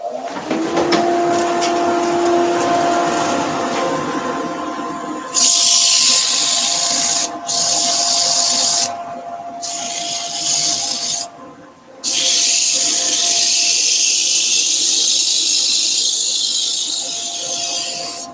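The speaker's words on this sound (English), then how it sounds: "So dust extraction on." Dust extraction system switching on beside a wood lathe during sanding of a turned cabriole leg: a loud, steady rushing hiss that cuts in and out several times over a low motor hum.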